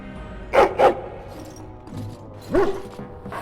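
A dog barks in the Dragon Age video game, two quick close barks followed later by a single louder one against a quiet background.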